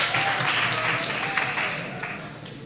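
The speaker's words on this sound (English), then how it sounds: "A round of applause for this team." An audience claps for a debate team at a school debating championship grand final, a dense, steady round of applause that slowly fades.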